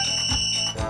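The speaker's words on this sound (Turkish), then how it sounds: "Ne güzel ses çıkarıyor. O cep telefonu." A mobile phone ringtone in a children's cartoon plays a loud, bright electronic tone with steady pitched beeps and two pulsing low buzzes, lasting about a second.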